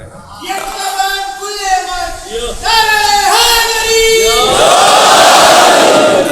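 A crowd at a Shia religious majlis gathering chants slogans in unison, loud rising voices swelling together in rhythmic waves and building into a sustained roar toward the end.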